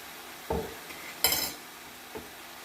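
A utensil scrapes and clinks against a pan while spicy stir-fried beef with basil is stirred: three distinct close strokes with a faint sizzle beneath.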